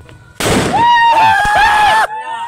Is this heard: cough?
no